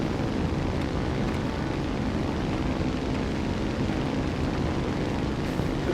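A plane takes off in a flight simulator game, a steady loud roar of engine and rushing air that holds constant throughout without any voices.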